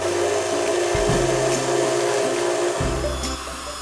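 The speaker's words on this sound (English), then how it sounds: "So I got out the rotary tool, and this is where you sort of take your time with it and round it over" A rotary tool rounds over the edge of a soft wood scroll saw segmentation piece with an aggressive sanding bit, its steady high whine dipping and shifting in pitch as it bites the wood.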